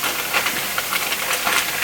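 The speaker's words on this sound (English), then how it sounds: "You'll hear it sizzling in a wee minute" Food sizzles in a hot pan on a hob during home meal prep, a dense steady crackling hiss with small spitting bursts throughout.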